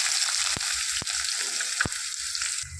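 Chopped onions frying in hot oil with cumin seeds in a pan for a broad bean and green chilli fry: a steady, loud, close sizzle throughout, broken by a few sharp clicks of a spoon against the pan.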